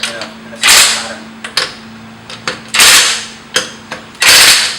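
Power tool tightening the wheel lug nuts on a Porsche Cayenne Turbo, delivering several sharp, loud bursts at irregular intervals, close by, with brief quiet gaps between them.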